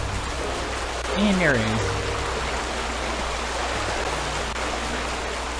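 Steady rushing flow of a river in the video game Octopath Traveler, a constant wash of water noise running throughout while someone talks over it.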